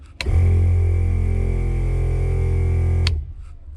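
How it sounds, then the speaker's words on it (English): An ARB-style onboard air compressor on a diesel Bronco kicks on abruptly, drones with a steady low hum for about three seconds, then cuts off. "And then here's the compressor."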